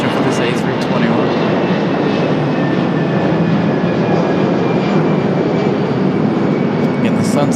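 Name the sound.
American Airlines Airbus A321 taking off at Raleigh-Durham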